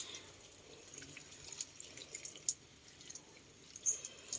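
Water from a small watering tool trickles and drips onto an Echeveria Madiba succulent, soft and close with scattered light drips and splashes, quiet and heard alone with no talking.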